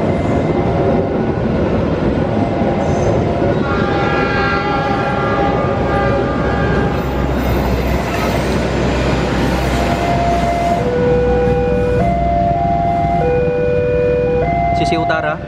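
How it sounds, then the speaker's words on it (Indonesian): An Argo Wilis train pulls into Yogyakarta station, its loud horn sounding in long steady tones over heavy rumbling rail noise throughout, with a voice talking now and then. "Argo Wilis teman-teman, masuk stasiun Jogja pukul"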